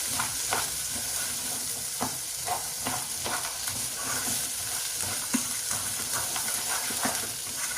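Fresh peas being stirred into a sizzling pan of chicken stroganoff, with a steady frying hiss broken by repeated scraping strokes of the spoon against the pan.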